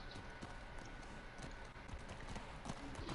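A horse's hooves clip-clop in The Last of Us Part II video game, with steady, faint, rhythmic footfalls at a walk and no other sounds.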